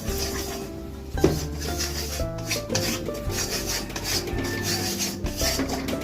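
Flour roasting in a pan for white sauce is stirred continuously, making steady scraping and rubbing against the metal with occasional light clinks of the utensil, close by and unaccompanied by voices.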